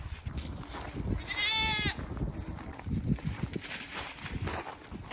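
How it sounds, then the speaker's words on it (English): A mother goat with two baby goats on a ranch lets out a single wavering bleat amid rustling and shuffling footsteps outdoors, with other movement noises around it. "We got the two little baby goats with their mom."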